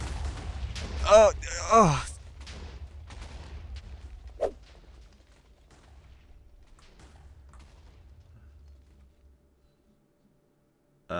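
Explosion in the Minecraft Tekkit modpack, a village blown up: a couple of loud booming bursts near the start, then a sharp thump, fading into quiet rumble, with voices exclaiming over it.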